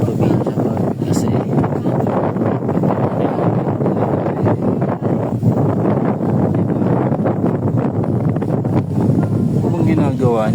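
Strong wind buffets the microphone in a constant roaring rush, with faint voices buried beneath the noise.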